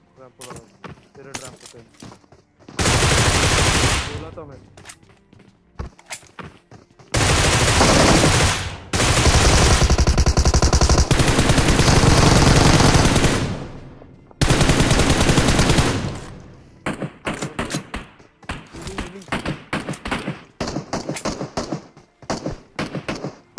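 Groza rifle fire in a PUBG-style battle royale match: long sustained automatic bursts, loud and close, alternating with shorter crackling shots and quieter gaps, with no talking over the gunfire.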